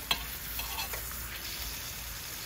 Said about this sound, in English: You can still hear the sizzle.